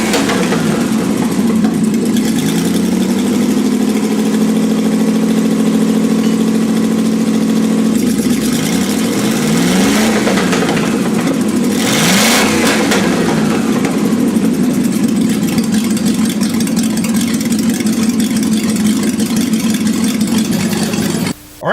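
Dodge Charger V8 idling with a deep, steady rumble, rising into a couple of throaty revs in the middle before settling back to idle, loud and close with no talk.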